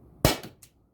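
A single loud shotgun blast firing steel shot at a target 10 yards away, a sharp crack followed by a short decaying echo and a faint secondary knock.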